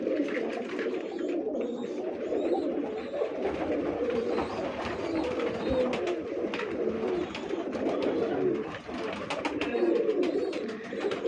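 Pigeons coo steadily in a busy pigeon loft in Bangladesh, a dense overlapping chorus of low throaty calls with no gaps and no talking.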